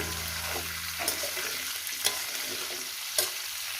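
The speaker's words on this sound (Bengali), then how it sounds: "সজনে ডাঁটা আলু দিয়ে ভেজে নিয়েছি।" Drumstick pieces and potatoes fry in a pan with a constant sizzle, broken by a few sharp scrapes as they are stirred, close up with no talking.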